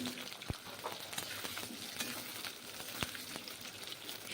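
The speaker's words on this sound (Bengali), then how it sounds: "এখন আলুগুলো প্রথমে ভেজে নেব।" Potatoes frying in hot mustard oil in a wok give a steady close sizzle, broken by two sharp utensil clicks against the pan.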